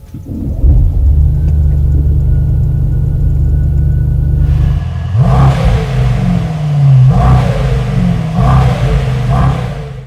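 A Mercedes-AMG GT63 with its hand-built 4.0-liter twin-turbocharged V8 rumbles loudly at idle, then barks through several sharp revs that rise and fall in quick bursts, close and dominant.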